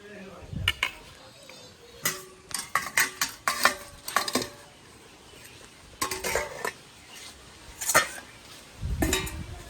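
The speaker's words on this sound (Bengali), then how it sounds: "এভাবে খুন্তি দিয়ে টোকা মারতেছি" Boiled eggs in a pan being tapped with a metal spatula, giving sharp, close metallic knocks in irregular bursts, with pauses and a faint sizzle underneath.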